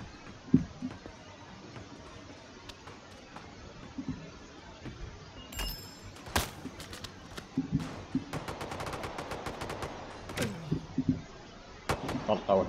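Gunfire in the free online shooter CROWZ, a survival battle-royale game: scattered single shots followed by rapid bursts of automatic fire, some sharp and close, others duller, with a voice talking between them.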